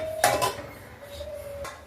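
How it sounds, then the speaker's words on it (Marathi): A metal lid is set onto a pot of brinjal curry with a sharp clank and a brief ringing follow-up, then a soft second knock as it settles. "मग त्याला आपण झाकण ठेवून एक उकळ काढून घेऊ"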